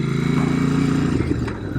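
A Royal Enfield Bear 650 motorcycle with a 2-into-1 exhaust rides along a gravel road, its engine a steady, close, fairly loud drone with no talking.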